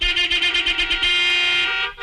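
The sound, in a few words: car horn honking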